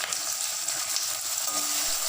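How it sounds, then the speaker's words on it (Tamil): Steady, close sizzling and crackling of turkey berries sautéing in a hot pan, continuous with no voices. "அதையும் வதக்கிக்கிறேன்."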